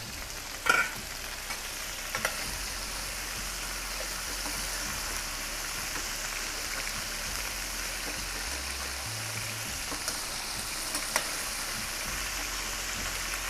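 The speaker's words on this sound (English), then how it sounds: "And sear it really well." Chicken searing in a hot pan, a steady hiss of sizzling fat and juices, close and even, with a few faint clicks and knocks from the pan and no talking.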